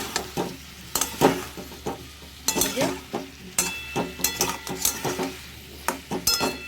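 Fried potato, pumpkin and pointed gourd being stirred into a spice paste in a pan, with frequent metallic spatula clinks and scrapes over a light sizzle, close and busy in rhythm.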